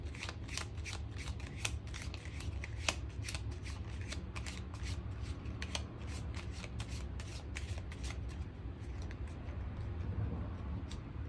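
Tarot cards shuffled and handled continuously at close range, a dense rippling riffle of card edges with sharp flicks and slaps scattered throughout, steady and moderately loud, no voices.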